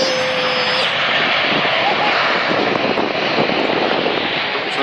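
A Virgin Atlantic Boeing 747 jet takes off at Manchester Airport, its engines producing a loud, sustained roar that fills the scene steadily from start to finish.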